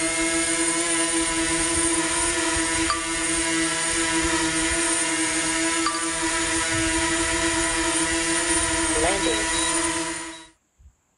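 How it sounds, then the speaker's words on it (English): A DJI drone's propellers spin up and whir in a steady, loud, high-pitched buzzing drone with strong tonal whine that holds for about ten seconds, then cuts off abruptly. "I'm just going to launch the drone again and record a short clip."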